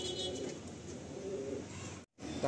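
Madrasi pigeons in a home loft coo softly and repeatedly in low murmuring phrases, fairly close. A brief dropout comes near the end.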